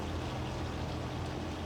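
Farm sprayer in Farming Simulator 25 spraying a field, a steady hissing wash of liquid under a low engine drone, close and continuous.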